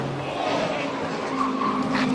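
A race car skids wide at the apex of Falcon Tyres Elbow at Bathurst during the 2013 Bathurst 12 Hour and slams hard into the barrier. It makes a loud, continuous roar of tyre scrub and engine noise lasting about two seconds.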